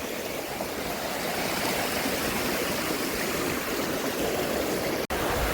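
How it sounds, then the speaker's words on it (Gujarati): Floodwater from unseasonal rain rushes through a village, a steady broadband roar of flowing water that stays loud and continuous, with a brief dropout near the end. "અહીંથી પાણી નીકળે અહીંથી પાણી નીકળે ઓલા પણ નીકળે પાણી"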